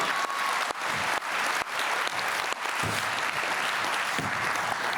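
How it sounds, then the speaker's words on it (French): Sustained applause from a crowd at an Olympic-themed New Year's greetings event in the Auxerrois, dense steady clapping throughout with a few louder sharp claps standing out. "On peut l'applaudir s'il vous plaît"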